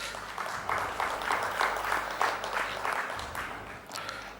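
An audience at the launch event for the Telugu show Meelo Evaru Koteeswarudu claps in a moderate, uneven round of applause with rhythmic bursts that swell and dip over a few seconds.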